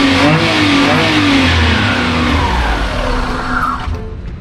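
A Daihatsu Mira Gino engine revving up and holding high revs, loud and close, with pitch sweeping, audible air-cleaner intake and a rough exhaust rumble underneath.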